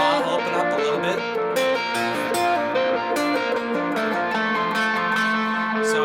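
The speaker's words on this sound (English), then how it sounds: "Let the wah open up a little bit." Overdriven electric guitar run through a wah pedal that slowly opens from a muted heel position, sustained distorted chords ringing continuously and fairly loud with no talking.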